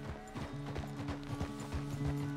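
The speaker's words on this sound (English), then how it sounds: "The horse can feel your fear." Horse hooves clip-clop steadily in Red Dead Redemption 2, a rhythmic run of close, moderately loud hoofbeats with low tonal game ambience underneath and no talking.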